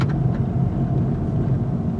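A 2024 Acura Integra Type S rolls over a large speed hump, giving a steady low road rumble and cabin drone with a faint bump thud near the start.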